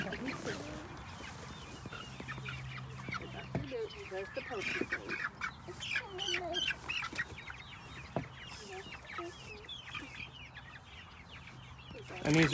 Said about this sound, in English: And these are Cornish cross.